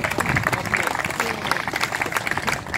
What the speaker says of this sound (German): Und ja, bitte einen Applaus.